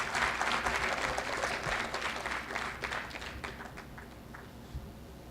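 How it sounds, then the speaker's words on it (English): An audience at the National Science Foundation groundbreaking ceremony in Alexandria applauds, with brisk, dense clapping loud at first that gradually thins and fades toward the end. "Let's give him another round of applause."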